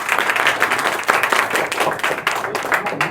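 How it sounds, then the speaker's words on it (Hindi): An audience of madrasa students applauds on request, a dense, continuous burst of many hands clapping close by for a few seconds, with a faint murmur of voices underneath. "ताली बजाइए एक बार।"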